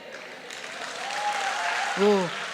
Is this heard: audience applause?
yes